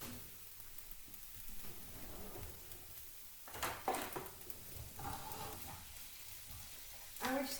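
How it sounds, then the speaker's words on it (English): Onions and peppers fry in a pan over medium-high heat, a quiet continuous sizzle broken by louder bursts of stirring and clatter. "we're just going to let those cook until the onions become quite soft, and so do the peppers"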